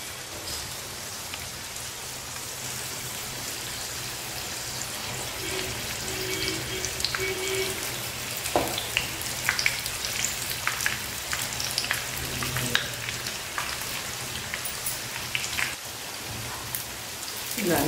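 Potato-stuffed chili bajji, batter-coated peppers filled with aloo, deep fry in hot oil, giving a steady dense sizzle and crackle that carries on throughout with occasional sharper pops.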